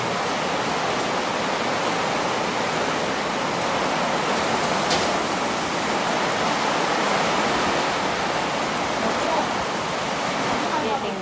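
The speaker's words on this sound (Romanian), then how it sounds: "Bine că plouă, mai crește arbuzul." Rain falling outdoors, a dense, steady wash of noise filling the whole span at a fairly loud level with little variation, no clear speech.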